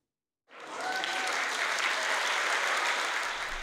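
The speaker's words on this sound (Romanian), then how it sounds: "Cu aplauze." Students at a school meeting with visiting writers break into sustained, dense applause that starts abruptly and holds steady, with no talking over it.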